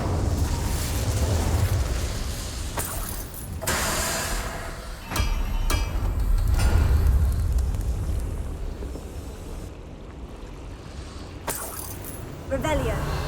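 A fire spell cast in the Hogwarts Legacy video game, with loud bursts of flame and whooshing rushes recurring over a dense, rumbling game soundscape.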